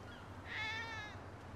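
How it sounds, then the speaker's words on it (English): A single cat meows in Grand Theft Auto V, one drawn-out tonal meow of moderate loudness rising out of a quiet low background hum, with no talking over it. "Oh, look at the kitty."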